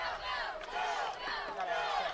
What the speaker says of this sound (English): Mustangs faithful getting fired up.